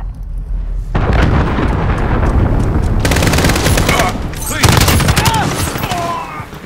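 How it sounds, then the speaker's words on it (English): Cruise missile strike in Call of Duty on Xbox One, heard as loud sustained gunfire and blast bursts rolling on for several seconds with sharp cracks and a swelling roar near the end. "Enemy cruise missile incoming."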